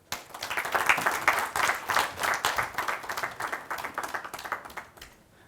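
A conference audience at a panel-discussion event gives Dr. Basarkar a lively round of clapping, close and fairly loud, building quickly, holding for several seconds and tapering off at the end.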